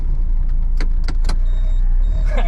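A Suzuki Alto Works car reversing, with a steady low engine hum throughout and a few short mechanical clicks and knocks near the middle.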